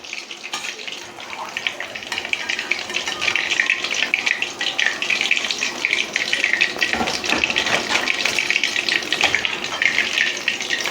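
Batter-coated chicken pakora pieces fry in hot oil, giving off a continuous bubbling hiss that rises slightly and holds steady throughout.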